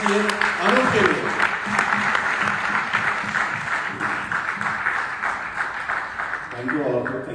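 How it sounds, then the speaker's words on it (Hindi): An audience at a Pattaya anniversary celebration gives a steady round of applause. People talk and call out over the clapping throughout, so the applause stays partly masked beneath the voices. "जोरदार तालियां होनी चाहिए अनूप के लिए"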